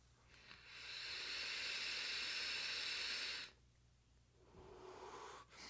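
An Aegis Boost vape kit with a 0.4 ohm coil at about 33 watts and airflow wide open is drawn for one long, steady airy hiss lasting about three seconds, then exhaled softly.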